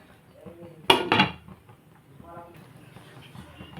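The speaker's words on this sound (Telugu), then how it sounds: "దీన్ని మూత పెట్టుకుందాం" A metal lid lands on a pot of upma with a sharp double clatter, brief and close, surrounded by quiet kitchen shuffling and soft handling noises.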